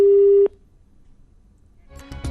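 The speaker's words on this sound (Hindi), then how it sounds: "तो फोन कट गया है, वापस संपर्क साधने की कोशिश करेंगे।" A telephone line cutting off during a call, a single steady tone that stops abruptly, followed by near silence and then faint shuffling noise.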